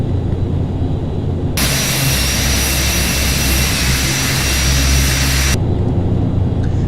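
Simulated ATR 72 turboprop engines climbing in the flight simulator FSX, a loud, steady engine drone that suddenly jumps to a brighter roar for several seconds and then drops back, with no voices.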